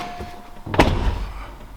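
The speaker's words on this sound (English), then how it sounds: "Let me close the door." A car door on a SlowBalt is pulled shut in a single solid thunk, close and fairly loud, followed by a short fading rattle against a quiet background.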